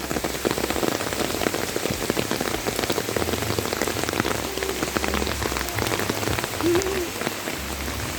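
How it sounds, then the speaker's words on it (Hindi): Heavy rain pours steadily outside the Viceregal Lodge in Shimla, a dense, continuous hiss of drops drumming on surfaces that stays loud and unbroken throughout, with no voices. "बहुत तेज़ बारिश हो रही है"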